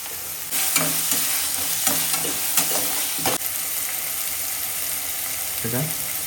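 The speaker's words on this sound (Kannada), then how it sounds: "ಕ್ಯಾಪ್ಸಿಕಮ್ಮು, ಹಸಿಮೆಣಸಿನ್ಕಾಯಿ, ಚಿಲ್ಲಿ ಮತ್ತು ಆನಿಯನ್ ಹಾಕಿ ಈ ಟೈಮಲ್ಲಿ ಸಾಲ್ಟ್ ಹಾಕಿ ಫ್ರೈ ಮಾಡ್ತಾಯಿದ್ದೆ" Capsicum, green chilli and onion frying with salt for egg rice, with loud close spatula stirring and scraping strokes over a constant sizzle, the clatter coming in bursts and then easing off.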